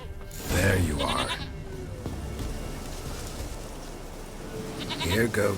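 A goat in The Witcher 3 gives loud, close, wavering bleats, one near the start and another at the end, with quieter game ambience filling the gap.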